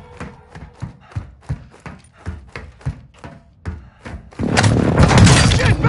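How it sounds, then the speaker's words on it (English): In a video game airstrike, a rapid run of heavy, evenly spaced thuds hits first, then a sudden loud, dense roar of explosions takes over for the last seconds. "Hostile airstrike incoming."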